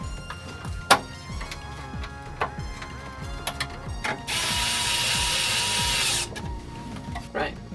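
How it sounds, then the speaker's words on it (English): A part being screwed onto a modular synth case, heard as a close, repeated ratcheting click with occasional sharp taps, then a loud steady hiss of a few seconds before the clicking resumes. "okay, now I screw this on here."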